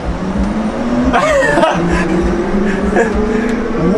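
A Mercedes AVTR concept car pulls forward with a steady electric whine that changes pitch and sits loud and close, with a brief click in the middle.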